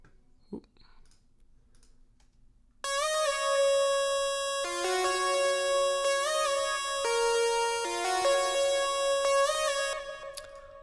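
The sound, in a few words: layered synthwave lead, unfiltered and chip sounds layers together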